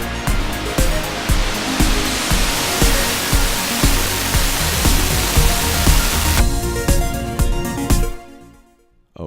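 A broad, loud distortion effect sweeps across a synth project as a knob is turned, a dense roaring wash with rhythmic pulses that suddenly thins out and fades near the end.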